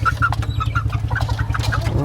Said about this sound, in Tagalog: Mga pangsabong po kasi ng manok ito ay.